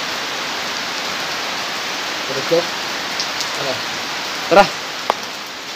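Steady rain falls as a continuous close hiss of drops pattering on surfaces, with a brief voice and a few small knocks heard over it.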